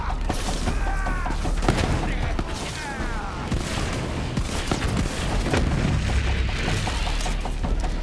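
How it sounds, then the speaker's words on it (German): Enemies exploding in the shooter video game Borderlands 3, with repeated loud booms and gunfire bursts in dense battle noise, with a voice talking under the din. "Also explodierende Gegner."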